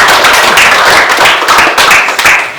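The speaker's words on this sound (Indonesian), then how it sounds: "Beri aplaus juga." Applause from a classroom audience during a mathematics teaching practice session, a dense burst of many hands clapping steadily and loudly throughout, close and unbroken.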